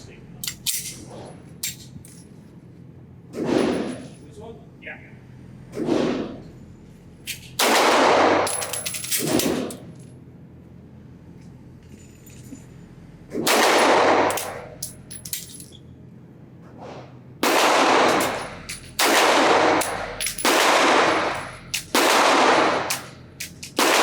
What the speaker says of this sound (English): let's see the best group I can get with this pistol if I only shoot